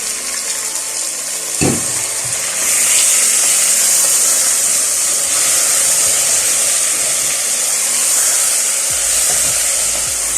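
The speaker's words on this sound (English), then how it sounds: "the sizzle." Marinated mutton hitting a hot pan of onions and garlic for a spicy Indian lamb and potato curry, a loud steady broadband sizzle that swells right after a thump and hisses on continuously, with no talking.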